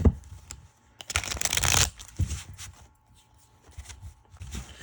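Thick, coated tarot cards riffle and shuffle with a crisp, rapid fluttering burst, followed by softer sliding and tapping as the deck is squared, close and quiet.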